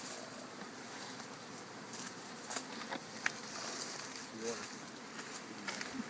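Honeybees, nurse bees gathered in a queen rearing box, buzz as a faint, steady drone, with occasional voices talking over it.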